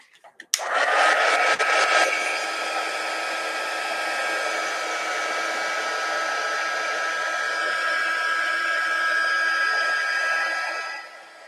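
Hair dryer blowing on a wet painted craft piece, switched on with a click and running at a steady, loud, even whir for about ten seconds before winding down.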